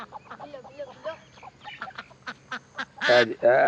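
A pet duck called Billo quacks in a few loud, close bursts near the end, after a stretch of lively talking voices around it.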